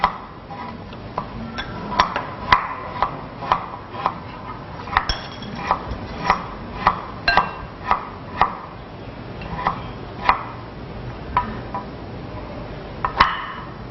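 A knife chops coarsely through lemongrass on a cutting board while marinade for grilled lemongrass shrimp is prepared, giving crisp, fairly regular thuds about once a second, close and clear.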